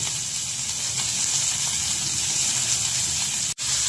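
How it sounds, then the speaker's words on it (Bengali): Fish frying in oil in a pan, a steady loud hissing sizzle that holds constant with a brief cut near the end, no talk. "এবার আমি মাছটাকে একটু ভেজে নিব।"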